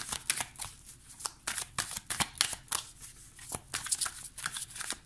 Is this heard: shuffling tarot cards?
yes